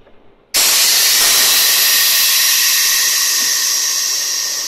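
A longitudinal seam welding machine running a weld with the pulse off gives a sudden, loud, steady hissing roar that starts abruptly after a brief quiet moment and holds almost unchanged to the end.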